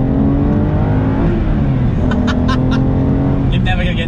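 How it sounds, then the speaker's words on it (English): An Aston Martin DBS V12 engine hums and revs steadily from inside the car, loud and continuous, while a person talks over it. "you're never gonna get tired of that V12"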